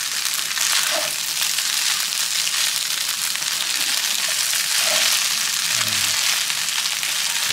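An egg frying in a pan for nasi goreng sambal belacan gives a steady, loud, close sizzle with scattered crackles and pops, with no talking.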